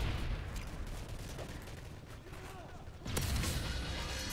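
A grenade explodes in a first-person shooter video game with a single sharp boom near the end, rising out of steady background battle noise and distant gunfire.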